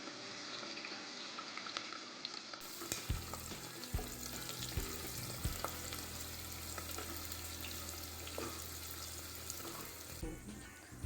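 Sliced onion frying in hot oil for a dhaba-style chicken handi curry, a steady low sizzle with occasional scraping and stirring knocks, fairly quiet and with no talking.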